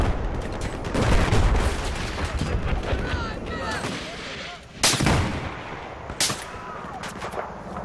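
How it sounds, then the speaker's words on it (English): Battlefield 4 assault rifle gunfire crackles in dense, continuous bursts with booming explosions during a chaotic multiplayer firefight, and a voice speaks over the din. "AK definitely beats the CZ-801. Assault rifles on both of them."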